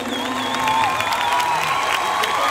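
Studio audience applauding and cheering on a Turkish TV magazine show, a dense, steady wash of clapping with crowd noise and whoops throughout, loud and close.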